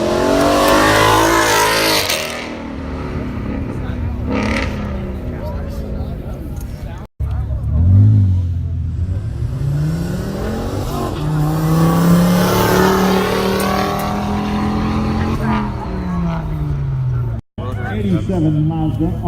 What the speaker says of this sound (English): Mustang GT.